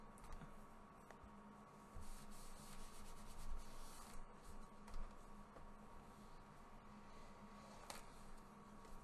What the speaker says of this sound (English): Now we want to go along each one of the 1-inch, burnish that down.